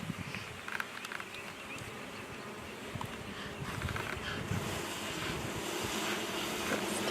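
Bees buzz steadily around an opened beehive during an inspection, a dense, continuous droning swarm close by that grows slightly louder toward the end, with no speech.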